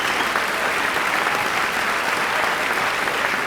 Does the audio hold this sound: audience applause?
yes